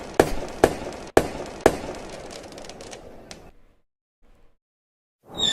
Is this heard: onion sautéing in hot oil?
no